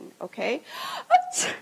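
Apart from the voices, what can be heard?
sneeze performed by a speaker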